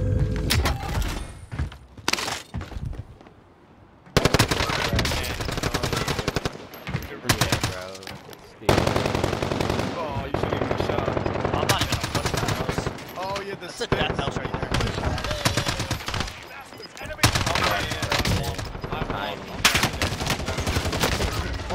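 Rapid bursts of PPSh submachine gun fire in Warzone on Rebirth Island crack out repeatedly in loud, closely spaced volleys with short pauses between them, while players talk over the shooting.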